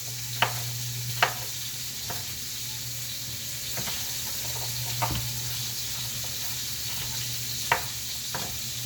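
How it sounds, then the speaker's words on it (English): Steady sizzling of Italian sausage frying in a pan, a constant crackling hiss with a low hum beneath and occasional sharp clicks of a utensil. "I can hear my Italian sausage in the background just kind of sizzling"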